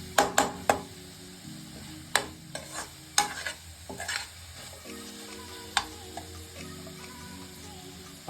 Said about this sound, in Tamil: கொஞ்ச நேரம் ஆனியன், தக்காளி அதெல்லாம் நல்லா குக் ஆகட்டும்